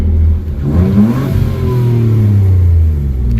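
Nissan Altima coupe with a 3.5 V6 and six-speed manual revving, a loud close engine note that rises, dips and climbs again steadily with no voices.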